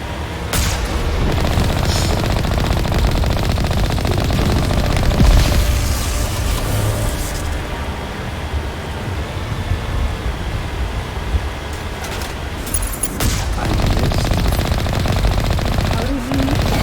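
Video game gunfire, dense sustained automatic fire and booms filling the whole stretch at loud volume, a few sharper bangs standing out over the continuous battle noise.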